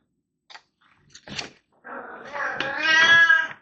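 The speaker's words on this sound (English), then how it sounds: "Everybody hear Corky? Corky's here. He's very talkative. He wants soft cat food" A pet cat gives a couple of brief soft chirps, then a long, loud, drawn-out meow that rises in strength, close by with no talking over it.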